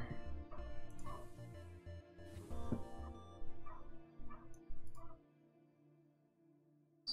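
Dogs outdoors give a run of yips and barks over a low rumble, fairly faint and a little distant, then the sound drops away to near silence.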